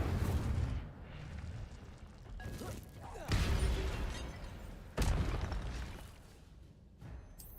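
Incendio fire spell cast in Hogwarts Legacy, heard as a few loud whooshing bursts of flame spaced through the moment, with combat noise between them and little speech.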